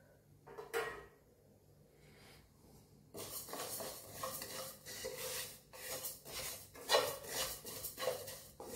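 Roasted spices and mustard seeds are stirred in a pan, heard as quiet scraping and metallic clinks of a utensil against the pan in irregular bursts, starting sparse and growing busier.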